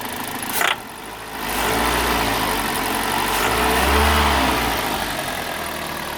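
Car engine idling during a dimexide engine flush, a close, steady running hum with a brief rise in revs after a short knock near the start.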